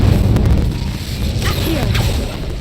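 An Incendio fire spell cast in Hogwarts Legacy gives two whooshing bursts over a dense, rumbling low roar, with a voice running beneath.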